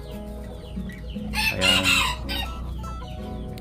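Bantam chickens kept in cages cluck and call in a short burst that swells in the middle, fairly close, with a brief spoken word at the start.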